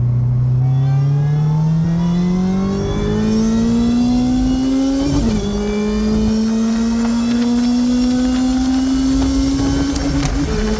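A tuned, high-boost supercharged car running 94 octane accelerates hard, its engine note climbing steadily through the gears with a brief shift dip midway, loud and close throughout with no talk.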